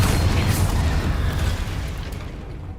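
A Confringo fire spell bursts in the Hogwarts Legacy video game, a loud booming explosion with a deep rumbling tail that slowly fades over a few seconds, with no talk over it.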